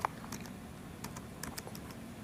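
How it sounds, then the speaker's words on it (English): A spreadsheet formula being typed on a computer keyboard, a short burst of quick, light key taps, close by and fairly quiet, with no talk. "What we do is you type in an empty cell"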